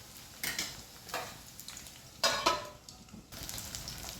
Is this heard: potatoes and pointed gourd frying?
yes